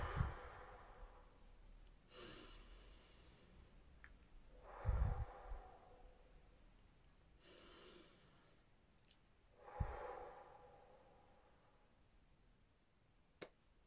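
Slow, deliberate breaths drawn in and let out during a stress-relief breathing exercise, several soft, unhurried cycles spaced a few seconds apart, close and quiet with faint clicks.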